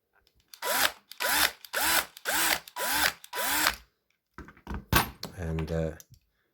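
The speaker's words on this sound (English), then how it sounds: "So I think a little bit more drilling." A high-pitched drill whines in a series of short bursts, rising and falling in pitch, drilling a vintage Matchbox Lesney Crash Tender die-cast toy, followed by a few clattering, buzzing pulses.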